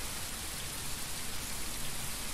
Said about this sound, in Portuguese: A chuva hoje está caindo